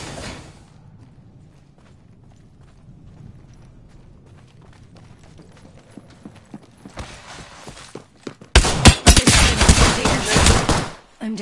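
A light sniper rifle, the G7 Scout, firing in the Apex video game, a quick series of sharp shots at a high rate that builds to a loud dense volley near the end after quieter ticking.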